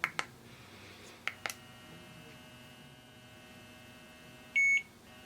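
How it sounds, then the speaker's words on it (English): A Brelax face washer timer gives a short, clean electronic beep, preceded by a few faint clicks and taps against a quiet background hum. "That beep there indicates that it's time to move to the next section of your face"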